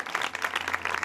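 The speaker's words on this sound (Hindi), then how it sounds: "जोरदार ताली यीशु के लिए" Church congregation clapping loudly and continuously, a dense steady wash of applause filling the short moment without pause.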